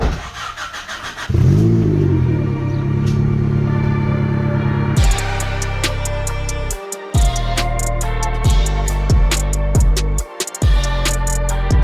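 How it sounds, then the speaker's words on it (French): A V8 engine in a Honda Civic cranks and catches, then settles into a loud, close run broken by a series of sharp revving bursts with brief drops between them. "Oh le bruit du V8 qui va démarrer là."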